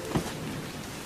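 Rain falls in a short, steady hiss of drops, with one soft thud near the start, in a brief cartoon scene.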